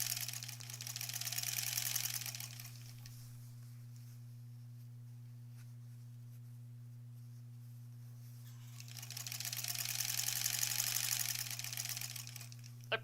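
A sewing machine stitches the back of a granny squares quilt in two fast, even whirring runs at the start and end, with a steady low hum and a quiet pause between them.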